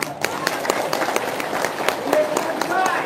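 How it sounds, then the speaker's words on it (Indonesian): An audience claps for about three seconds, sharp individual claps close by and spread unevenly in a loose, scattered rhythm, with voices talking underneath. "Tepuk tangan dulu."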